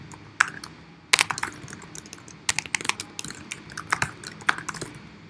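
Irregular bursts of computer keyboard typing, crisp close keystrokes clustered in quick runs with short pauses, fairly quiet and with no voices.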